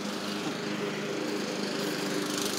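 A lawn mower drones steadily through long grass, its engine a constant loud buzzing whine with no pauses.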